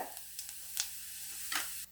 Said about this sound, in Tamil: சீரகம் நல்லா பொரிஞ்சதும்